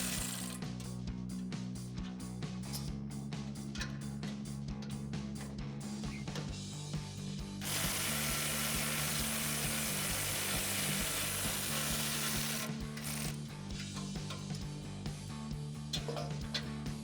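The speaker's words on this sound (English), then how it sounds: "I'm also using my electric ratchet." An electric ratchet with a 14mm socket whirs steadily, backing out studs holding the front crash bar on a Tacoma, with a sustained, fairly quiet mechanical drone and faint clicking throughout.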